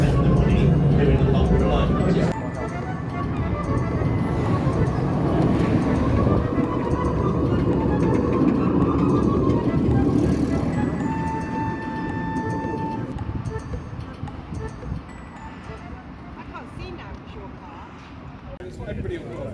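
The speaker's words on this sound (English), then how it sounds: "this light rail is delivering a very pleasant and smooth ride" Interior of a Coventry Very Light Rail tram in motion, a steady low rumble and hum of the running vehicle that eases slightly over time, with a person talking over it.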